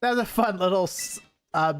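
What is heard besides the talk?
No everyday noise stands out behind the speech.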